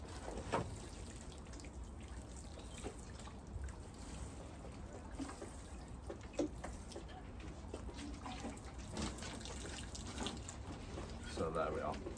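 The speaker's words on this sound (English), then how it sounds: "it's a case of giving them a good watering so that they start to germinate" Water from a can or hose sprinkles over cucumber seed trays filled with compost to start germination, a soft steady trickle and patter that carries on throughout, fairly faint, with a few brief knocks and handling sounds.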